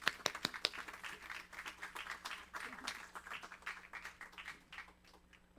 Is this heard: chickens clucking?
no